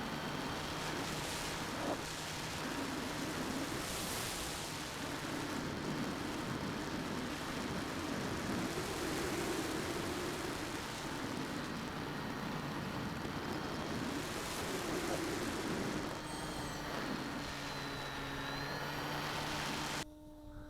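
A Volantex Ranger RC airplane flies outdoors, its motor giving a steady, fairly distant drone mixed with wind noise for the whole stretch, with no one talking.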